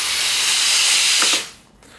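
Steam wand on a Sanremo YOU espresso machine blasts a loud, broad hiss, then cuts off abruptly with a faint mechanical click as the flow stops.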